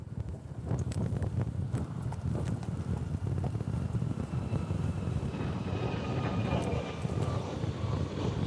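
Southwest Airlines airliner taking off at Honolulu airport: a steady, fairly loud roar of jet engines mixed with wind buffeting the microphone, sustained throughout.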